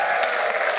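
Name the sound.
audience applauding the band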